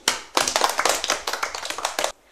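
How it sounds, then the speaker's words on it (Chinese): A classroom of students applauds a classmate with a quick burst of brisk, fairly loud clapping that lasts about two seconds and then stops abruptly. "真棒，掌声给他"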